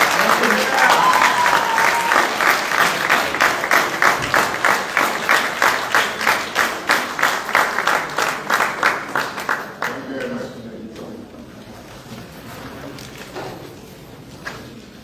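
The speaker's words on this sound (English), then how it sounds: "give our Prime Minister Hubert Minnis a delightful round of applause" An audience gives a standing round of applause for Prime Minister Hubert Minnis at a Mt. Moriah constituency event. Loud, dense clapping falls into a rhythmic, almost synchronized beat, then fades out after about ten seconds, leaving quiet room noise.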